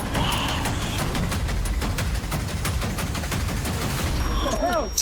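Rapid bursts of gunfire fill a dark-fantasy action game trailer, a continuous loud volley under a booming score, with a brief whooshing effect near the end.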